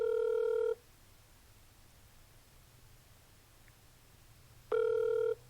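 Outgoing phone call ringback tone while waiting for an answer, two steady electronic ring bursts about four seconds apart with a quiet hiss between them.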